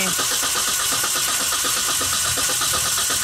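A car engine with a standalone ECU cranks on the starter during base timing setup, a loud, continuous churning and rumbling that is close up and holds steady throughout.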